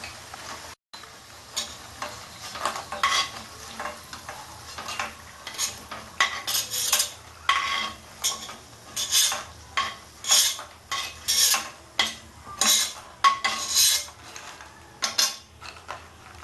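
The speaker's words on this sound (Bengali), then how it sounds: "মচমচে করলা ভাজা হয়ে গেছে এবার আমি তুলে দেবো" Crispy fried bitter gourd (karela) stirred and lifted from a pan in a Bengali home kitchen, with repeated scraping and clinking of a utensil against metal in irregular bursts over a faint background sizzle, close and fairly loud.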